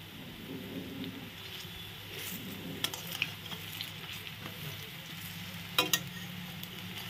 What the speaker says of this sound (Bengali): এখন আস্তে আস্তে ভাজা হোক